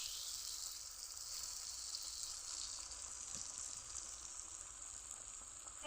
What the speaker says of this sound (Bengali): বন্ধুরা তেল গরম করে নিয়েছি, পিঠাগুলো ভাজতে দিব।